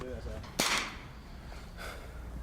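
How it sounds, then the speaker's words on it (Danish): A single sharp gunshot crack cuts through, followed later by a fainter distant report, with muffled talk at the start, during a Danish light infantry exercise in woodland. "kan høre skud op foran, hvad foregår der?"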